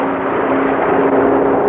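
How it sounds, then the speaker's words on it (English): A racing airplane at the 1970 Reno air races passes at almost 400 miles an hour, giving a brief, loud, steady engine drone that holds a sustained tone throughout. "There goes Loning at almost 400 miles an hour"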